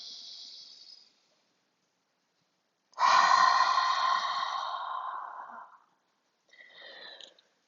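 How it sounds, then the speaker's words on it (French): Close, audible breathing during a vinyasa yoga session: a short nasal inhale, a long forceful exhale through the mouth after a pause, then another brief breath, with no talking. "Inspire par le nez. Expire par la bouche."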